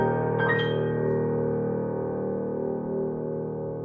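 Roland HP702 digital piano sounding a sustained chord, struck once and left ringing with a smooth, slowly fading tone, loud and close, no talking.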